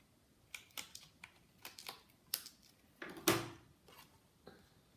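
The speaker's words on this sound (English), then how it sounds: "I'm going to bring in my paper snips. And I'm going to trim off the excess." Paper snips trim excess paper from the edge of a handmade card, a quiet series of irregular sharp cuts and clicks spaced across the moment, with no talking.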